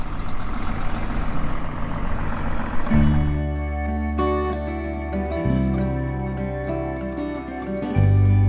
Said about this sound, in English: Farmer's gonna drive the topper over, and I'm gonna trail him in a pickup truck.